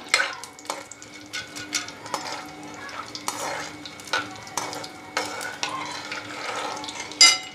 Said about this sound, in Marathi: आता आपलं तेल तापलेलं आहे आपण थोडेसे दाणे याच्यामध्ये तळून घेऊ